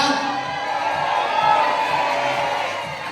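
A crowd cheers and whoops at an airport boarding gate event for GI409, a steady dense roar of voices with excited shouts sustained throughout at close range.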